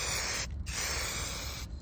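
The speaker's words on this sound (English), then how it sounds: "Just even spray." A spray gun painting a car hisses loudly and steadily in two bursts, with a brief break in between, close up and alone.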